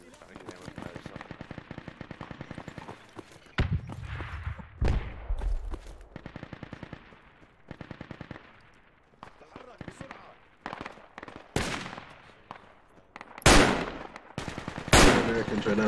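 Scattered video game gunfire in a squad-based military shooter, rapid rattling bursts mixed with isolated loud cracks, some shots sounding far off and others sharper and closer, separated by quieter gaps, with voices talking in between.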